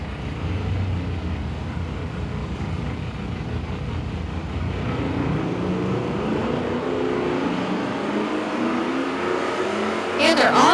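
Two 1968 drag cars, a Mercury Cougar and an Oldsmobile, launch at a nostalgia fuel-and-gas drag race, a loud sustained engine roar that swells and sweeps away down the strip, with a sharp crackle at the end.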